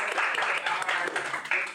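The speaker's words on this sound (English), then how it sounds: "Can y'all do a round of applause for folks like" Theatre audience at a live reading event applauding steadily, a dense wash of many hands clapping at close range with no pauses across the short stretch.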